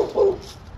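A puppy outdoors near dead trees gives a single short, mid-loud yelp-like bark near the start, followed by quiet background.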